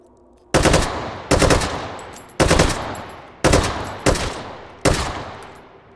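Gunfire with armour-piercing incendiary rounds in the video game H3VR, six loud sharp bursts at uneven intervals, each trailing off in a ringing echo before the next.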